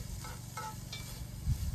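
Seasoning being stirred into meat in a hot pot outdoors for cowboy stew, with a few soft scraping stir strokes over a steady low sizzle, fairly quiet and without talk.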